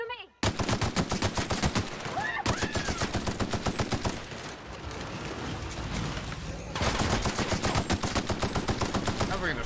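Assault rifle gunfire in the sci-fi video game The Outer Worlds: long, sustained, loud automatic bursts with steady rapid rhythm, briefly pausing near two and seven seconds, with faint game voices beneath.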